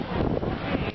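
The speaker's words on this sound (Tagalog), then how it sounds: "malakas lang yung hangin" Steady, loud wind buffeting the microphone, a dense rumbling roar that fills the whole moment without pause.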